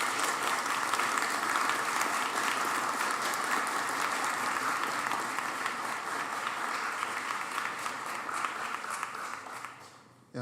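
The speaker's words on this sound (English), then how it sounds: "I think we can give a round of applause to" Audience applause at a healthcare leadership diploma graduation ceremony, a sustained wash of many hands clapping steadily for about ten seconds before tapering off at the end.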